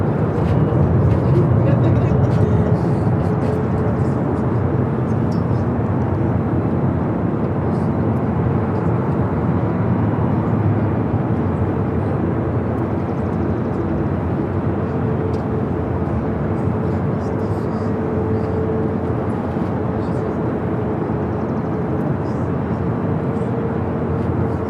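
A jet airliner taxis at Los Angeles LAX airport toward runway 24 left, a steady, continuous engine roar and rumble that stays loud and constant throughout, with faint talk in the background.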